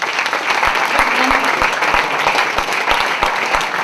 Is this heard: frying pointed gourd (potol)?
no